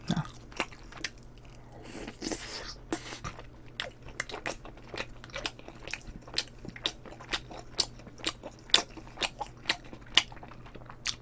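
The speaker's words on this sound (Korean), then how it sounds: "오뎅하고 같이 먹어볼게요" Chewing fish cake dipped in sweet tteokbokki sauce: close, wet, rhythmic bites and mashing repeat steadily, with a few crisper clicks and no talking.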